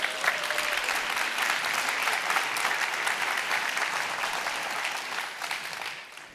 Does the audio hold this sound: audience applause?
yes